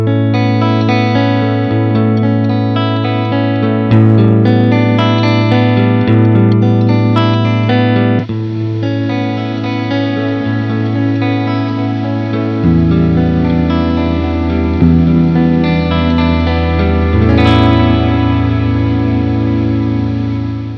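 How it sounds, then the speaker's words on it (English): A 12-bit digital reverb pedal fed into an amplified system sounds out as sustained, heavily processed tonal chords with grainy, distorted quantization noise riding along, loud and continuous with no talking. "When you feed a 12-bit digital effect into that kind of system, the quantization noise gets amplified along with the signal"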